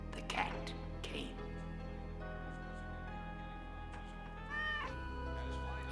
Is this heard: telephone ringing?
no